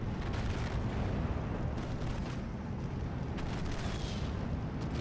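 Mortar fire in the Steel Division 2 war strategy game: a continuous low rumble of distant battlefield blasts with scattered muffled booms and crackles, moderately quiet and steady throughout.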